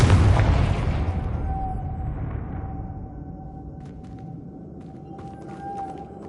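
A Confringo fire spell from Hogwarts Legacy goes off as a loud booming blast and then rumbles away into a faint, lingering tone, heard alone with no voices.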